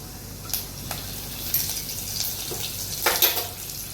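Curry leaves and cumin seeds crackle in hot oil on a low gas flame while sabudana khichdi is being made, soft steady frying hiss broken by several sharp spitting pops.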